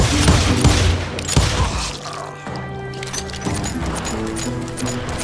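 Gunfire rings out in the Western shooter Call of Juarez Gunslinger: a burst of loud, close shots up front, then scattered shots and impacts over tense game ambience.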